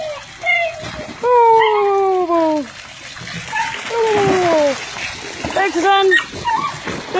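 A dog splashing and paddling in a doggy aquatic centre pool, water sloshing under excited shouts and high whining vocalizations, with a woman loudly cheering throughout.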